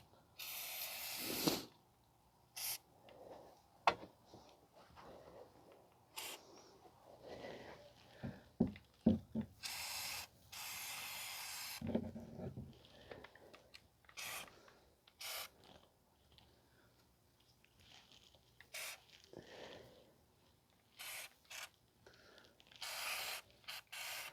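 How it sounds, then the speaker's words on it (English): Repeated short hissing bursts of aerosol spray on the rear brake springs and adjuster of a 2010 Toyota Camry, some long and some quick, separated by clanks and handling noises close by. "you want to spray the springs and the adjuster and spray them down"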